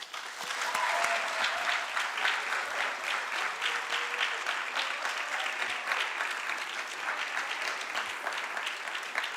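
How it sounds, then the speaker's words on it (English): Sustained, even applause from an audience at a high school academic awards ceremony, a full crowd clapping steadily throughout without talk on top. "Let's please give them a round of applause."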